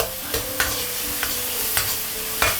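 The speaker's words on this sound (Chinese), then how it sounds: "先炒个肉末，这时候下入这个5号肉末，开小火啊，开小火，先把它炒散。" Minced pork stir-fried in a hot wok over low heat gives a steady close sizzle, broken by about five brisk spatula strokes scraping through the meat at irregular intervals.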